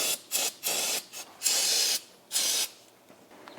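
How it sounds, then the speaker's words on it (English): Brake cleaner is sprayed in several bursts onto the 4.4L V8 engine of a Land Rover LR3, loud close hissing blasts of varying length separated by short pauses, the last one longer before it trails off. "I'm just going to be careful and spray off everything I can."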